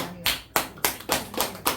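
Hands clapping during a church sermon: about six sharp, close claps at a steady, even rhythm, loud and crisp with brief silences between them.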